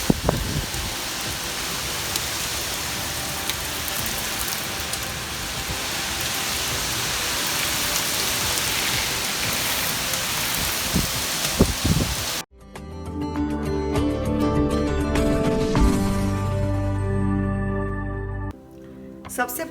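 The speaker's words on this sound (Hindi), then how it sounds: "बारिश का मौसम है" Steady rain falling during a rainy season, a dense close hiss filling the first twelve seconds before it cuts out and music takes over.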